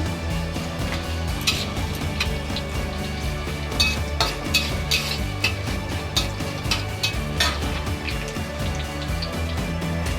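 Onion, green chillies and a bay leaf fry in a pan for kochu shaak with hilsa fish head, producing a steady close sizzle with scattered light clinks and stirring scrapes throughout, no voices.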